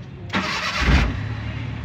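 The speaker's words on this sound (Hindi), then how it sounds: "गाड़ी स्टार्ट हो चुकी है" A Suzuki car engine turns over on its self-starter with a short whirring crank, then catches and settles into a steady idle, close and fairly loud, all within about two seconds and with no talking.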